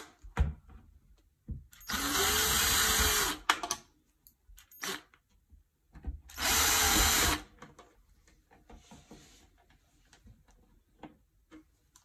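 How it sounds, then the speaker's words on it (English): A power drill backs out the screws holding a bathroom exhaust fan's cover plate. Two separate high whirring bursts of about a second and a half each are heard, with quieter clicks and handling noises between them. "pull out these four screws that hold the cover plate on, and we're going to use the drill for that."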